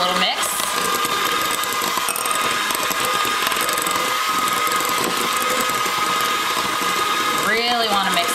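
A mixer whirs steadily as apple butter is blended into cream pie filling, a continuous mechanical drone filling the clip, with a voice speaking near the end.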